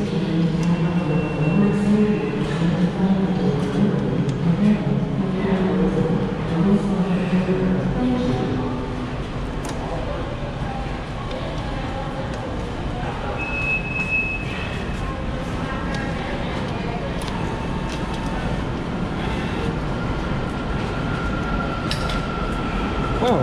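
A Washington DC Metro train rumbles through the busy underground Gallery Place–Chinatown station, a steady roar with faint squeals and people talking in the background.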